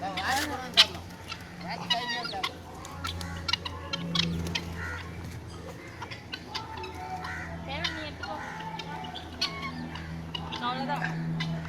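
Chickens cluck and squawk while being fed at a pets' feeding area, with busy overlapping calls and sharp peaks, close by under people talking.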